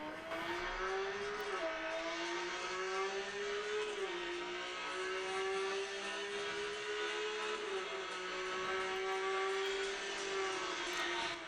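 Race car engines from the mobile racing game Real Racing 3, played on a Xiaomi Mi Max 2 phone, drone steadily throughout with a high, even pitch that dips slightly at each gear change.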